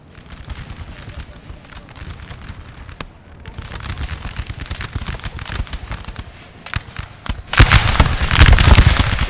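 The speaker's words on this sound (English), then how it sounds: "Like trying to take out things like this, like artillery over here, this Cossack gun. It's just taking pot shots at the Turks." Cossack artillery gun firing in the Napoleon Total War video game, irregular booms and crackling volleys of battlefield gunfire, building louder toward the end amid constant musket fire.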